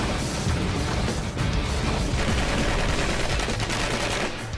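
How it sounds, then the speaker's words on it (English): Projectiles strike a granite boulder again and again in a destructive test, making a dense, loud barrage of impacts and crashes with a thick roaring rumble underneath that goes on unbroken, with no talk. "After 8 direct hits, the granite is barely scratched."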